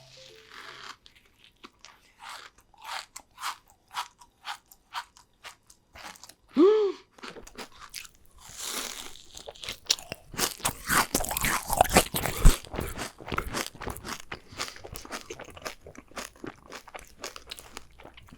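Someone bites into and chews a crunchy Dubai chocolate cookie up close, with crisp crackling bites and wet chewing that intensify midway, mixed with light wrapper rustles and brief mouth sounds.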